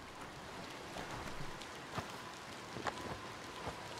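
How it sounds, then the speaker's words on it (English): Steady rain falls in the video game Biomutant, a soft broadband hiss with a few brief droplet spatters, quiet and continuous throughout with no voices. "That better be rain."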